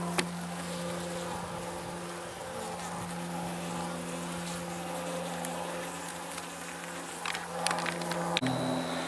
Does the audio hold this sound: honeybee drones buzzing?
yes